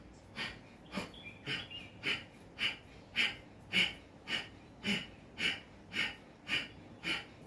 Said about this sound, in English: Give a jerk to your tummy so that you can breathe out.